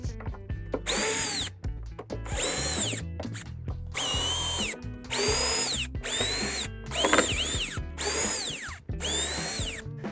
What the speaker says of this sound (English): remove each of the cover screws from the shipping crate lid